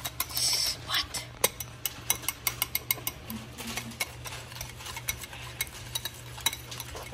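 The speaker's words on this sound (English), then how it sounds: "This is so hard to stir." A spoon stirs a thick, stiff mixture in a bowl, giving a series of irregular scraping clicks and knocks against the sides over a low steady hum, close and moderately loud.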